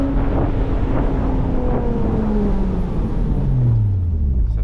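Open-top Porsche Boxster Spyder with a manual gearbox driving along, its engine note falling steadily as revs drop, buried under loud, constant wind rush.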